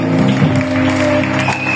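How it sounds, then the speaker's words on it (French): A congregation applauding in a reverberant church, with clapping blended into a sustained, tonal wash of cheering and music. "Et acclamer Jésus-Christ de Nazareth"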